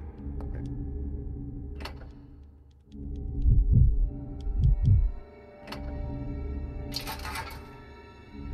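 A slow, deep heartbeat thumps in Resident Evil 0, heard as paired low beats under a quiet background tone, with faint ticks and a brief high chime.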